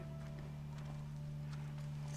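Horse hooves clopping in The Last of Us Part 1 video game, a faint, quiet run of soft hoof beats over a steady low hum, with no talking.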